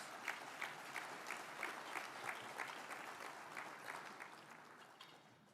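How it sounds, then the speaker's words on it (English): Audience at a Junior Achievement of Greater New Orleans Hall of Fame event applauds its sponsors, a moderately distant, even patter of many hands that gradually fades toward the end. "Let's give them a round of applause."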